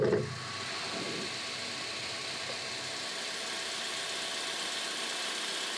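A vehicle engine idling steadily at a low, even level after a brief louder burst at the start, with no voices over it.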